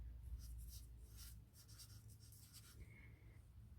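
Someone writes a name on a piece of paper, making soft, close scratching strokes in short irregular bursts over a quiet room hum.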